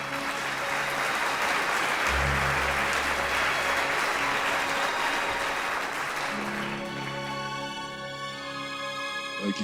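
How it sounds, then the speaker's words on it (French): A studio audience at a monster-themed show applauds the Cenobites from Hellraiser. Dense, sustained clapping lasts several seconds, then thins out as music rises beneath it. "On les applaudit bien fort."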